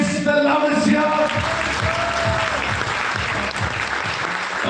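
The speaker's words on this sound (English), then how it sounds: "let's give all the kids the loudest cheer" Audience at an award ceremony in New Delhi cheers and claps loudly for children, a dense steady wave of applause with shouts mixed in, close and full throughout with no talk over it.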